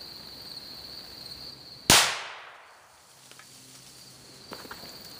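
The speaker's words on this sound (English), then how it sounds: "I had to shoot it with this. This is a 338-06, and that is a 30-06 necked up to a 338 caliber" A single sharp, loud rifle shot from a .338-06, a 30-06 necked up to .338 caliber, fired at a pumpkin outdoors, with a long decaying echo rolling away afterward and a faint steady insect buzz in the background.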